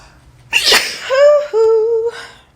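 A single loud sneeze, sharp and close, followed by a short tonal vocal sound afterward.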